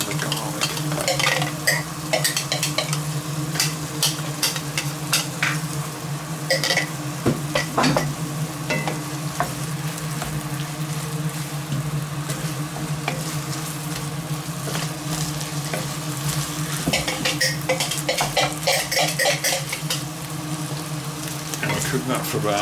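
Ginger and garlic fry in a pan as the base for a chicken and sweet potato curry, a steady close sizzle running throughout with scattered clinks and scrapes of a utensil against the pan.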